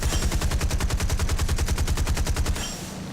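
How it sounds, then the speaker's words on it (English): Six aircraft machine guns in War Thunder fire a rapid, evenly spaced burst of about twenty loud shots that cuts off sharply, leaving a lower engine drone. No one talks. "Six machine guns do work."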